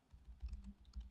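Someone types on a computer keyboard, giving a quick burst of several soft key clicks in an uneven rhythm, close by and fairly quiet.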